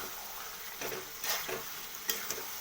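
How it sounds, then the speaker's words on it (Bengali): Chicken cooks in a pan with a quiet background sizzle and a few brief scraping stirs of a utensil clustered in the middle, ending in a couple of light clinks, no talking. "দেখুন আমি চিকেন রান্না করছি"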